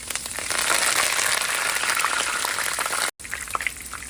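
Chopped green chillies and curry leaves frying in hot oil give a dense, continuous sizzle with crackling pops and spatter, close and fairly loud, cut by a brief gap near the end.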